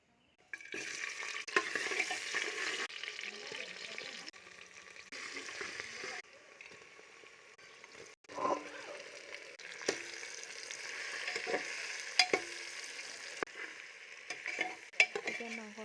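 Oil heats and sizzles in a pressure cooker before local chicken is cooked, giving a continuous frying hiss with scraping and stirring clatter and occasional sharp knocks, close and fairly loud.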